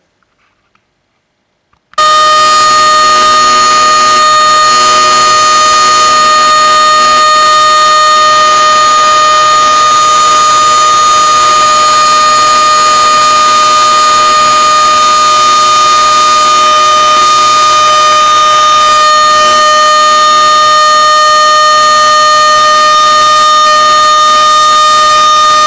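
A rotating Federal siren, a motor-driven mechanical unit, wails loud and continuous after a brief quiet start, holding a steady rich tone with strong harmonics throughout.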